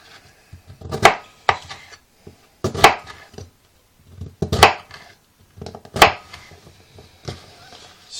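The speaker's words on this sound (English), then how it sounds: "And just chopping a beetroot." A raw whole beetroot chopped on a board with a knife, sharp thuds landing about once a second in a loose rhythm, close and clear with no talking.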